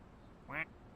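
A single short duck quack, close and fairly loud, standing alone against a quiet background.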